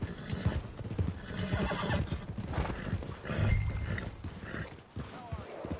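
In a video game, a horse at the stables whinnies while its hooves clop in a steady rhythm close by, with a faint voice in the background.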